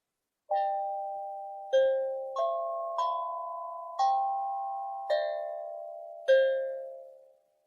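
Seven clear chime-like notes ring out one by one, each decaying slowly, forming a short bell melody in a quiet room.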